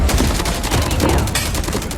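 Rapid bursts of gunfire in the mobile shooter Call of Duty Mobile, pistol shots cracking in a quick repeated rhythm, loud and close throughout, with no talking.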